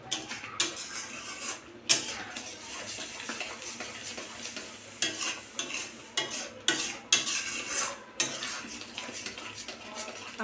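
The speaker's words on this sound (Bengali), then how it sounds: "নাড়িয়ে নিয়ে" A spoon scrapes and stirs shahi paneer gravy in a pan, close and clear, with repeated clinks and scraping strokes at an uneven rhythm and a faint sizzle underneath.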